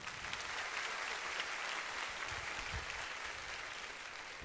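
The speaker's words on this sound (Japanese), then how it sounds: "どちらか片方に拍手をお願いします" Audience applause in a Zepp concert hall during an MC rap battle, a steady, evenly dense roar of clapping lasting the whole stretch, heard at a distance and without voices.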